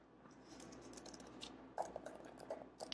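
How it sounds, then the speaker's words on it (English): Typing on a Microsoft Surface Pro 2017 keyboard, close and faint: a run of quick, light clicky keystrokes that grow crisper and more distinct toward the end. "Keys feel clicky."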